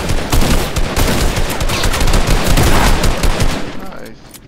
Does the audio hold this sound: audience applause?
no